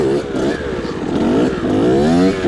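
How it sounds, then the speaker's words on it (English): A Suzuki RM 65 mini dirt bike engine revs hard and close during wheelie practice, its pitch rising and falling in a steady, buzzing wail. "If you don't have a mini bike like this, go get one."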